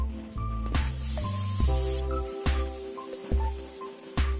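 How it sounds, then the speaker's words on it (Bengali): Soybean oil, about three tablespoons, poured into a cooking pot of fried potatoes, giving a hissing spray and spattering sizzle with a few sharp clinks, close and fairly loud. "এবার ওই পাত্রে আমি 3 টেবিল চামচ পরিমাণ সয়াবিন তেল দিয়ে দিচ্ছি"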